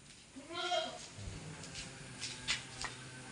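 Beetal breed goats bleat on a goat farm in Hissar, Haryana, with a few wavering calls over low farmyard background noise.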